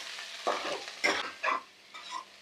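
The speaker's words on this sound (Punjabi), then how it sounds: "ਆਪਣਾ ਤੇਲ ਗਰਮ ਹੋ ਚੁੱਕਿਆ ਹੁਣ ਆਪਾਂ ਇਹਦੇ ਵਿੱਚ ਬੜੀਆਂ ਪਾ ਦਈਏ ਤੇ ਬੜੀਆਂ ਆਪਾਂ ਚੰਗੀ ਤਰ੍ਹਾਂ ਦੇ ਵਿੱਚ ਫਰਾਈ ਕਰ ਲਈ" Soy chunks fry in hot oil while being stirred, giving four separate scraping, sizzling strokes at a steady, unhurried pace, close and moderately loud.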